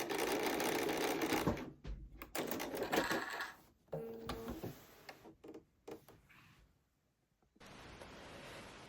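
A domestic sewing machine stitches and back tacks a seam on a pinafore dress, with close rapid mechanical needle chatter in several bursts broken by brief pauses and a longer quiet stretch before it resumes.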